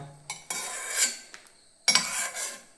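A metal spoon scrapes and clinks against a pan while food is scooped out into another vessel. Two bursts of rattling contact, close and clear, with a quiet gap between them.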